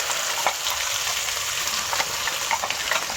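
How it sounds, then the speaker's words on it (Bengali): Onion and cashew paste hitting hot oil with whole garam masala, peppercorns and bay leaves for Reshmi chicken masala, giving a steady close sizzle with scattered crackles and stirring scrapes, no voices. "এবার দিয়ে দেবো পেঁয়াজ, কাজু বাদাম বাটাটা।"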